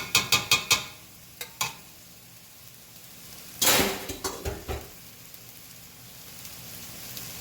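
Rice being stirred into a cooking pot, enough for a family of six, with a few sharp scraping clinks of the spoon against the pot and a brief rush of stirring noise, heard alone and close.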